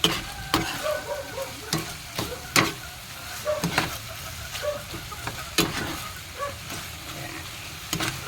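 Pork steak with kalamansi is stirred in a hot pan, giving a soft sizzle under repeated sharp scrapes and clacks of the utensil against the pan, fairly close and irregular.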